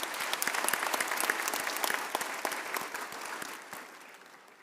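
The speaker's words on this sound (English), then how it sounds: "Let's give him another big round of applause." An audience at a university graduation ceremony applauds after a speech, with many distinct hand claps in a crowded burst that gradually thins and fades toward the end.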